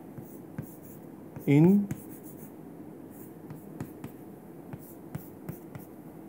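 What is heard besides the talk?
writing on a board during a lecture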